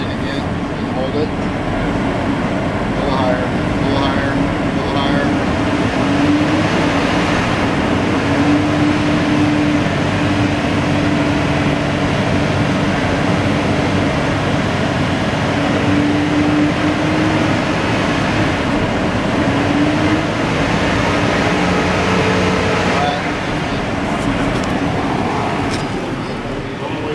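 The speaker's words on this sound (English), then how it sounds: "rev the engine again and hold it." A 2011 Ford Edge engine is revved and held at steady high idle with headlights and blower fan switched on while its voltage regulator fails. A loud, even mechanical drone with a droning tonal hum persists close by for the whole stretch.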